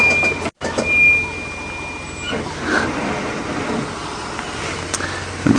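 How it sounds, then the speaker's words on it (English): A safari vehicle driving downhill has brakes that give off thin, high squeals in short bursts over a steady engine and road rumble. "you can't ease your way when the brakes make the most horrendous noise like they do now"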